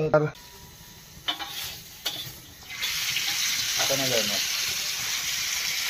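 Oil sizzling on a faulty griddle at an outdoor night camping party, a steady hiss starting partway through after a few clatters and bumps, with people talking nearby.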